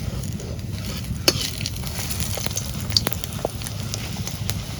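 Pumpkin leaf fritters, made from ash gourd leaves, fry in hot oil with a steady, soft crackling sizzle. Occasional sharper pops and faint stirring clicks rise above the bubbling.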